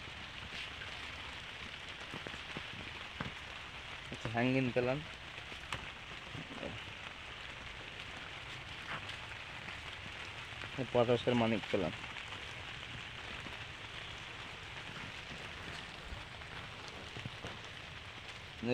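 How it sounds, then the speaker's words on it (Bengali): Steady rain falls at a plant nursery, an even patter on surfaces that runs through the whole stretch while a person talks close by over it. "বৃষ্টি হচ্ছে"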